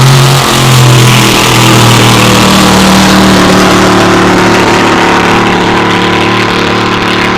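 A racing powerboat on a practice run, with an engine of about six litres, roars loud and close, its pitch rising and shifting with throttle over a continuous heavy drone.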